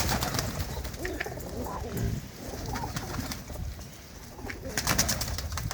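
Several pigeons coo in a loft, overlapping low warbling calls close by amid rustling and general background noise.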